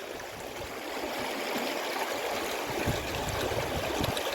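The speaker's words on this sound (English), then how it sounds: "here we've got some rocks going across the river. Water's quite fast" Fast-flowing river water rushes and splashes over a line of rocks crossing the channel, a steady broadband roar close by that holds throughout with no voices.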